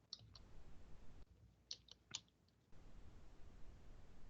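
Quiet, sparse clicking of keys on a computer keyboard as a word is typed into a search field, heard as a few short taps in small bursts against a faint background hiss.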